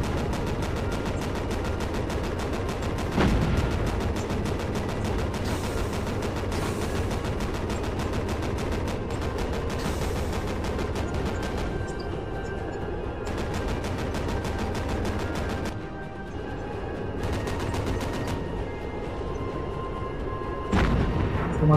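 Repeated heavy naval cannon blasts boom over a constant rumbling soundscape in the video game Battlestations Pacific, with sharp bursts recurring every few seconds.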